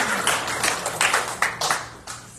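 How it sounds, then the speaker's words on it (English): A small congregation at a Sunday celebration church service giving a little round of applause: a thin, close patter of a few people's hand claps arriving in uneven bursts, with no talking over it. "let's give a little round of applause"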